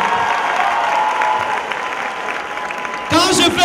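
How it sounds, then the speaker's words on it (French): Comedy show audience applauding loudly on cue, a sustained wash of clapping throughout that swells sharply near the end. "Si c'est bon, applaudissez très fort."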